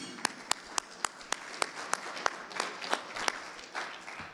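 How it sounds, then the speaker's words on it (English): Sharp, scattered claps that thicken into steady applause from a modest crowd at a cybersecurity keynote session in Chicago, fairly close, with a few louder individual claps standing out. "Another big round of applause for Rob"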